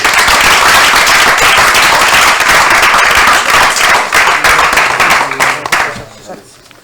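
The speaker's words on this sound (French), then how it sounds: "On applaudit encore très fort les amis." A show audience claps hard in a loud, dense burst that runs for several seconds, then thins out and fades near the end as the applause dies away.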